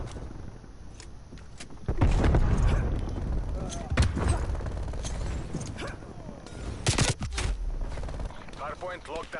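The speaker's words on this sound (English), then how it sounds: "Artillery inbound." An artillery strike lands in Call of Duty Cold War multiplayer, with heavy impacts and gunfire rising from about two seconds in and bursting again later, under players' voices.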